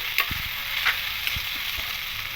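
Snake gourd frying in a pan for a vegetarian coconut dish gives a steady sizzle with a few sharp stirring clinks and scrapes against the pan, close and fairly loud, and no voices.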